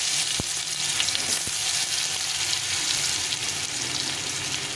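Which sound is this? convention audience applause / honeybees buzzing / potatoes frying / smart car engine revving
potatoes frying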